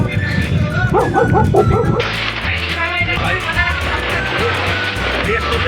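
Dogs yip and bark in short bursts at a snowy, windy Gulmarg hillside, mixed with steady wind noise and nearby chatter, while people talk over them throughout.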